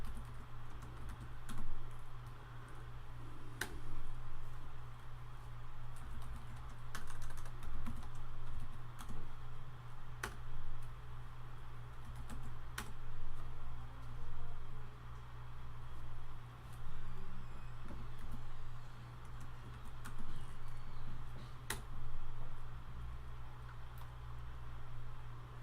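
Typing commands on a computer keyboard, with sparse, soft individual key clicks spread across a quiet room with a steady low hum underneath.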